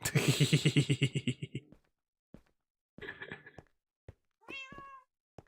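A cat meows in a sequence of short, close, moderately loud calls, with brief pauses and soft thumps between them.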